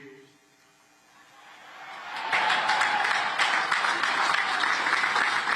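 Enthusiastic applause from a large crowd at West Point swells in after a couple of quieter seconds with a voice, then holds as a dense, loud, continuous wash of clapping.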